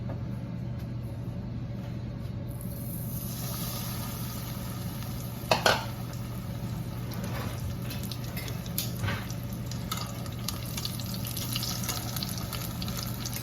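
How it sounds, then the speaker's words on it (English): Breaded spiedini frying in hot vegetable oil, a constant bright sizzle heard up close, with a sharp clatter as pieces go in and a few lighter knocks after. "I got some hot oil over here, vegetable oil. This is ready to go right in."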